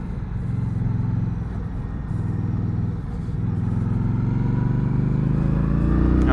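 A 2020 Indian Scout ABS motorcycle riding toward a highway on-ramp in Tennessee, its engine a steady, close low rumble that climbs gradually in pitch and loudness as it accelerates, with wind noise over it and no talk.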